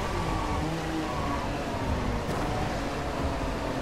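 A Lamborghini Diablo SV in the racing game Driveclub gives a steady, dense engine roar with broadband road noise, holding an even level throughout without clear gear changes.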